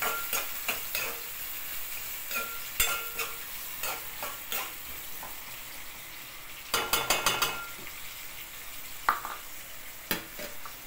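Onions and green chillies sizzle in a pan for a chicken curry as a spatula turns them, giving irregular scraping strokes with a quick cluster of clattering scrapes partway through, all close and without speech.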